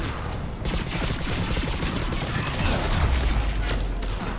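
Rifle fire from the video game Mass Effect 3, rapid bursts of shots mixed with booms and mechanical clatter in a busy battle scene at moderate volume.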